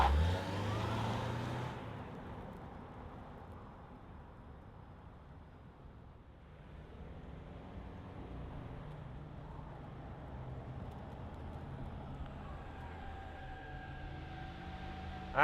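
A 2025 Toyota Sienna Woodland Edition minivan starts and rolls away, a faint, smooth low hum with a soft rise in engine tone, steady and quiet throughout with no talking.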